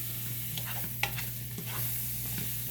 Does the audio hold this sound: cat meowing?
no